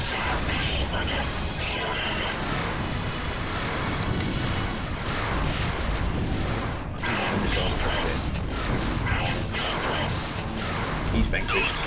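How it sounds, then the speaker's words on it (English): Enemy turrets fire without pause in Wing Commander Prophecy, a dense, loud barrage of blasts and booms running the whole time with a voice talking over it. "Those turrets keep shooting me."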